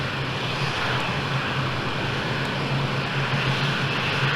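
A simulated jet aircraft engine in the Falcon 4 Allied Force flight simulator runs up during a ramp start, giving a steady, loud, broadband whine and roar with a low hum underneath, unbroken and without talk.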